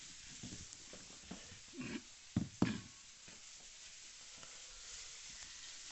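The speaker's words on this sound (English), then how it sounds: "we'll get back to frying our kidneys" Bacon and kidneys fry in a pan with a soft, low sizzle, punctuated by a few brief knocks and stirring sounds, fairly faint overall with no talking.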